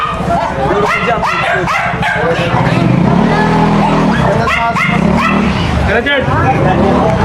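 A dog barks and yips several times in short bursts while people talk nearby.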